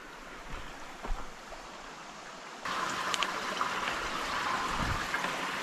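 Stream water flowing at an isolated camping spot, a steady broadband rush that swells louder partway through, continuous and fairly close with no talk over it.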